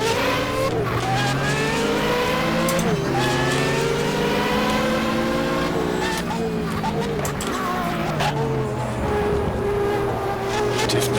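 A race-leading Ferrari race car in the video game GTR2 at a Daytona 24 Hour race, its engine droning loudly and shifting pitch through gear changes, with a commentator talking over it.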